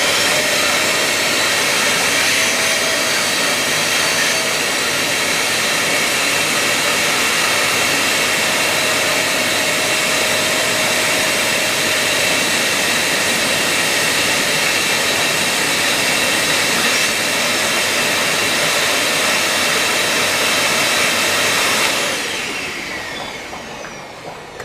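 A shop vac drains a five-foot fish tank, running as a loud, steady, broadband roar at close range for the whole stretch, then tapering off near the end with no talking.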